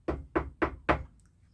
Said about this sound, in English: The knock. The dreaded knock.